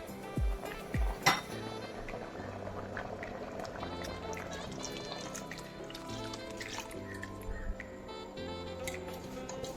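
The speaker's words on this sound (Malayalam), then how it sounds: "ഇനി ഇതിലേക്ക് നമുക്ക് ആദ്യം പിഴിഞ്ഞ് വെച്ച പാല് മുമ്പാൽ ഒഴിച്ചു കൊടുക്കാം" First-press coconut milk is poured into boiling chickpea payasam, a soft continuous trickle and splash of liquid with occasional light clinks from the vessel, heard close with a low steady hum behind it.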